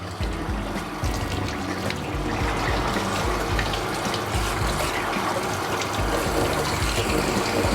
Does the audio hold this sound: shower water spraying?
yes